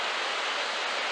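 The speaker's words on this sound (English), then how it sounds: "we're at the secret window waterfall" Steady broadband roar of the secret window waterfall at Hanging Rock, a constant rushing wash of falling water heard alone and fairly loud throughout.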